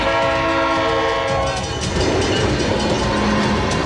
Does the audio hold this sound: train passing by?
yes